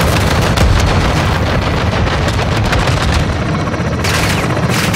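In a Call of Duty: Modern Warfare II battle, weapons pound a marked target with continuous loud booms, heavy gunfire and rumbling explosions layered into a dense, unbroken barrage.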